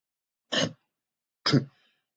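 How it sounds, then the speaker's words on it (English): A person gives two short, breathy coughs about a second apart, each a brief isolated burst against near silence. "I just like coughed up a little bit like something was coming out, but I swallowed it"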